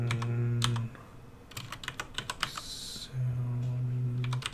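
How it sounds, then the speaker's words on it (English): Fingers tap out a burst of quick, uneven keystrokes on a computer keyboard, clicking close and clear between stretches of a sustained hum, with no one speaking. "I can't type faster than this, just so you know."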